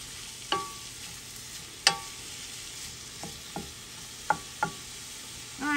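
Peppers and onions sauté in bacon grease in a pan, a steady soft sizzle running throughout, broken by a few sharp clinks and scrapes of a utensil stirring the vegetables.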